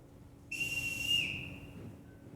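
A single sharp whistle blast, held for under a second, summons the household in a large house, loud and shrill against a quiet room, then fades.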